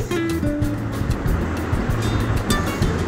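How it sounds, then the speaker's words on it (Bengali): Potatoes frying in a pan with salt and turmeric give a steady, dense sizzle that hisses continuously throughout, with faint tonal sounds layered over it. "আলুটাও ভেজে নেব"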